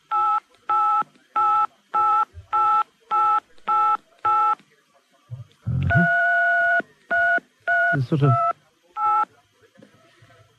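A caller on a radio phone-in plays a rhythmic run of telephone keypad tones like a tune, with a quick series of evenly spaced beeps followed by longer and shorter notes, heard clearly over the line with a few brief words spoken.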